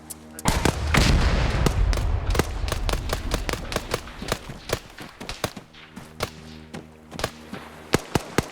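Video game gunfire in a tense combat mission, a loud heavy burst at first, then a long string of sharp, irregular single shots close by, cracking out alone with gaps between.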